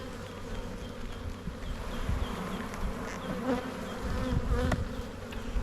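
Honey bees swarm-buzz at an open hive in spring, a dense, steady drone filling the whole stretch, agitated and jittery, with occasional closer bees zipping past the microphone.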